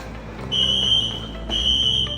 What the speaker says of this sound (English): We pulled the fire alarm